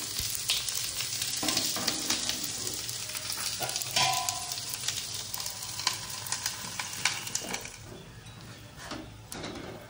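Food frying in a pan gives a continuous close sizzle with crackling pops and a few utensil scrapes, fairly quiet and steady without talk.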